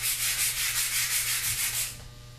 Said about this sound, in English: just need to be sanded down in preparation to put actually the first coat of stain on it